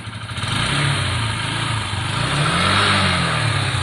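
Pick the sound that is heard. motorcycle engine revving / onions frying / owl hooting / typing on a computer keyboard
motorcycle engine revving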